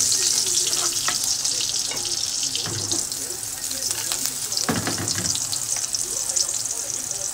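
Garlic frying in hot oil until brown, a steady loud sizzle with intermittent stirring scrapes and clatters, close up.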